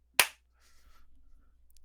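A single sharp hand clap rings out close and loud, followed by a faint murmur of background voices from people nearby.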